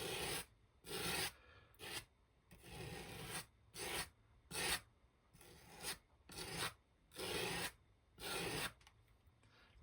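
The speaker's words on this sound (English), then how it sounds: "So I'll just take some of this texture paste, and then I'm just literally just going to scrape it through." Texture paste scraped in repeated strokes across a wooden-grain mixed media surface, about nine rasping passes with short pauses between, close and moderately loud with no talking.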